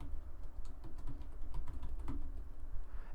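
Someone types on a computer keyboard in CAD drafting software, a quiet, steady run of light key clicks lasting a few seconds with no talking.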